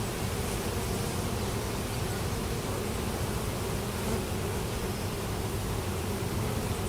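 Honey bees swarm around an opened hive during an inspection after two years, producing a steady, dense buzzing drone that stays close and unbroken throughout.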